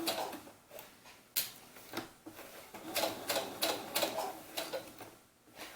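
Sewing machine topstitching a doll's sunsuit, running in short uneven bursts with pauses between them, close and moderately quiet with no voices.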